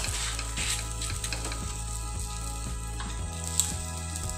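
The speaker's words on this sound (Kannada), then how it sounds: "ನೀವು ರೆಡ್ ಕಡೆ ಫ್ರೈ ಮಾಡ್ಕೊಡು ಚೂರು ಆಯಿಲ್ ಪಡ್ದೆ ಮಿತ್ತು" A rava roti frying in a little oil gives a steady, close sizzle with soft bubbling crackle throughout, plus one faint small clink near the end, and no talking.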